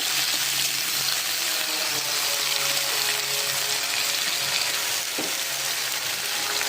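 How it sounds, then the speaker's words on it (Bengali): Chopped onion and cumin sizzle in a hot pan, a steady, loud, continuous hiss and crackle heard close up without pause. "পেঁয়াজটাকে একটু ভাজা হবে"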